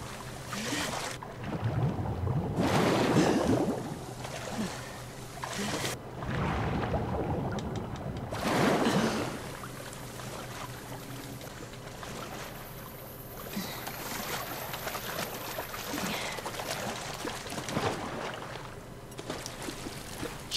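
Boat moving on water in The Last of Us Part II, with sloshing water and gusting wind that swell and fade in several long surges over a low steady hum.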